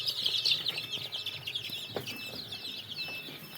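Seven-day-old tiger breed chicks chirping in a high, busy chorus at a chicken farm, steady and fairly faint throughout with a soft low background hum.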